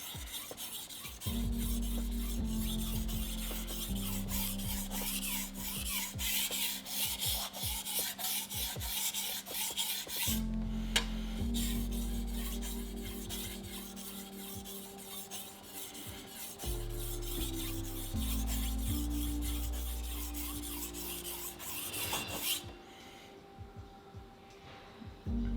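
A stainless steel knife sharpened on a whetstone, steady rhythmic scraping strokes rubbing back and forth, close and fairly quiet, pausing briefly midway and ending with a short quieter stretch.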